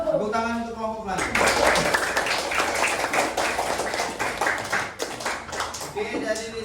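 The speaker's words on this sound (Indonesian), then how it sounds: "Tepuk tangan untuk kelompok pelangi." Clapping for a student group in an Indonesian classroom, a dense burst of hand claps from many people at close range for several seconds, with voices briefly heard at the start and end.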